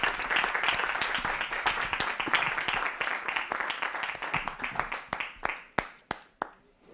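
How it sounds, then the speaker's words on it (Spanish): An audience at an academic talk gives a fairly soft round of applause, a busy patter of hands that thins into a few scattered, separate claps at the close. "un aplauso, por favor"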